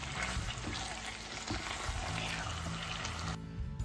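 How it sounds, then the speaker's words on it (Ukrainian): Steady sizzling of turkey liver frying in a pan, with stirring sounds scraping through, close and continuous, no talking. "кидаємо сюди нашу печінку. Перемішуємо."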